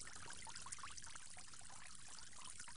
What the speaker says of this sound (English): You will go ahead and rinse and wash both your hands 3 times, starting with the right.